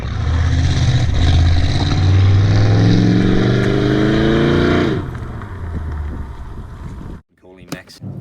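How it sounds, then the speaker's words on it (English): A one-of-a-kind replica of the Mad Max V8 Interceptor car revs its V8 engine loudly and close for about five seconds with a rising pitch, then settles to a lower rumble before cutting off, with wind buffeting the microphone. "his one-of-a-kind replica of Mad Max's V8 Interceptor"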